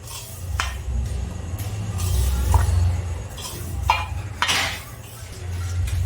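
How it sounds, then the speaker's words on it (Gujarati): Spoon scraping and clinking against a bowl while mixing farali thepla dough ingredients with fresh coriander and green chillies, steady soft stirring with occasional sharper clinks over a low background hum. "હવે આપણે બધું મિક્સ કરી લઈશું."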